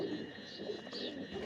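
Pigeons cooing softly, a low, faint, continuous murmur of coos with a light background hiss.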